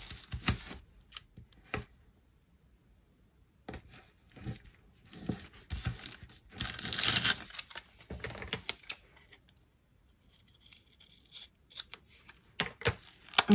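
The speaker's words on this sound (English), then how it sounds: "I'm going to cut it and make it a little bit smaller" Paper for a planner memory page is cut with scissors in short crisp snips and rustles, scattered bursts separated by quiet pauses, close and fairly soft.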